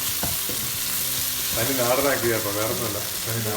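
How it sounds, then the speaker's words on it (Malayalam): Vegetable fried rice sizzles steadily in a hot pan as a splash of soy sauce goes in, the frying hiss swelling briefly partway through and continuing as a constant background; no one speaks. "soya sauce ഒഴിച്ചെടുക്കുന്നു"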